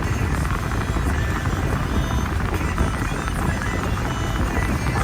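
Air conditioning fan in a GMC Sierra 2500HD Duramax LLY pickup blowing cold air, a steady, loud broadband rush that holds constant throughout with no pauses.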